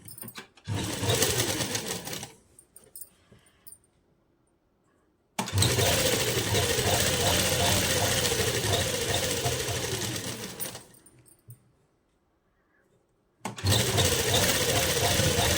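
A sewing machine stitches a seam along a salwar cuff in three loud, close bursts of rapid whirring and clattering, with quiet pauses between runs.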